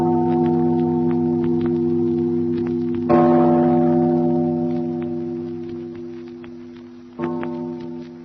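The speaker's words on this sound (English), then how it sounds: "listen to the bell" A large tower bell rings with long, sustained harmonic tones, struck twice: a strong clang near the start of the swell, another later, each decaying slowly.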